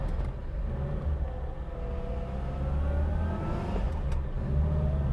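A Riley 4/Seventy-Two classic British saloon car pulls away on a road, its mid-pitched engine droning steadily and rising gently in pitch as it gathers speed, with continuous road rumble beneath.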